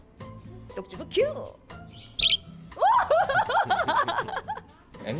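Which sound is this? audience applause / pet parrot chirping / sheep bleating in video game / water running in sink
pet parrot chirping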